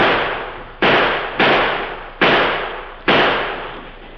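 Gunfire sound effect in an old radio drama: five sharp, echoing shots fired at uneven intervals, each decaying into a reverberant tail.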